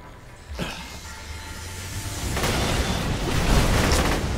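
Fireworks in a video game go off loudly and close, a sharp burst followed by a swelling rumbling crackle that builds and fills the rest of the moment with no talking.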